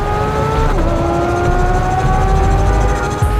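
A 2022 Porsche 911 GT3 engine sings at high revs, its pitch briefly dropping with a shift and then building steadily, loud and close throughout without talk.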